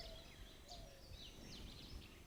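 Wild birds call in the Bandhavgarh forest in India, including robins, magpie robins, bulbuls and doves. Faint, scattered chirps and whistles carry over a steady outdoor hiss with no nearby talk.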